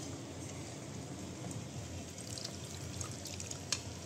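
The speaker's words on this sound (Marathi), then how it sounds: "तेच ॲड करते." Water from a blender jar is poured into a dish while palak paneer is cooked, a quiet continuous pour with faint drips and splashes.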